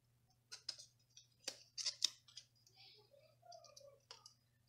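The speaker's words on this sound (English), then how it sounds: "Let me trim that where I cut it so crooked." Scissors trim paper for a Happy Planner with a few crisp snips up close, quiet and separate, over a low steady hum.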